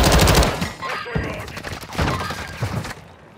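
Gunfire crackles in the video game Call of Duty: Modern Warfare II as irregular bursts of shots and thuds, fairly loud and dense throughout.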